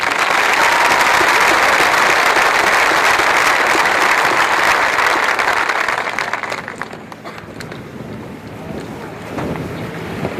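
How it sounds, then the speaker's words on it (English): Applause for graduating high school seniors at a 2013 commencement ceremony, a loud, dense crowd clapping that fades after about six seconds and gives way to quieter, scattered claps and room noise. "Once again, please honor these students with applause."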